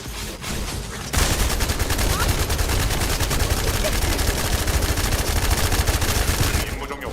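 Rapid automatic weapon fire in the shooter game The First Descendant, a loud, continuous stream of close shots that runs for several seconds after a brief lull, then cuts off.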